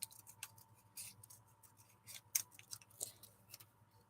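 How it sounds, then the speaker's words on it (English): Scissors make a wobbly freehand cut through craft material, producing a quiet series of irregular snips and paper rustles heard up close in a calm room. "off screen, just wobble cutting through this"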